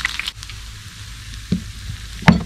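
Whole catfish frying in hot oil in a home kitchen, giving a steady soft sizzle with scattered pops and one sharper crackle near the end. No one talks.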